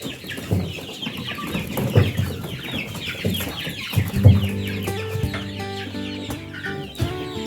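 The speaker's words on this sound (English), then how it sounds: "So these are the small chicks." Small chicks in a crowded section of a free-range chicken coop, many overlapping clucks and cheeps with some louder fowl calls, close and continuous.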